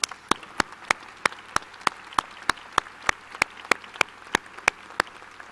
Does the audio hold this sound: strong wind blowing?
no